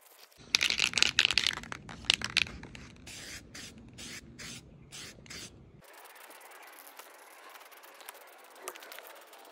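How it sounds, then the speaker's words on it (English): Primer sprayed from a rattle can onto a car hood, several short hissing bursts with pauses between them, then softer continuous spray and handling noise, close by. "Then we're gonna apply second coating of primer."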